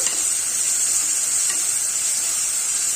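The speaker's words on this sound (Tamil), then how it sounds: "நல்லா வதக்கி விட்டுக்குவோம் நல்லா வதங்கணும்" Rice ingredients sauté in a pan with an even, close sizzle and hiss that holds steady throughout, with soft stirring underneath.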